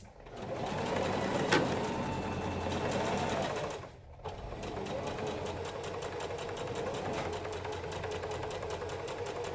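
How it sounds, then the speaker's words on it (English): A sewing machine stitches along the fabric edge of a face mask, a steady fast mechanical rattle that pauses briefly and then resumes, fairly close and continuous. "You want to sew with the edge of your presser foot along the edge of your fabric"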